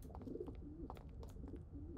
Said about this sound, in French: j'entends des pigeons.